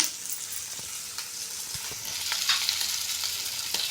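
Capsicum frying and being stirred in a pan, a steady close sizzle with soft scraping stir sounds that grows slightly louder toward the end, with no one talking.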